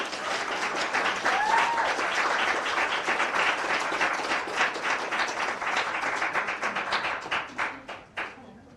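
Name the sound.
audience applause for a poet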